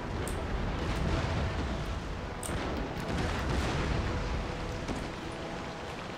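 Naval cannon fire against an enemy ship in the strategy game Empire: Total War, a continuous rumbling din of booming broadside shots and distant blasts with occasional sharper cracks above it.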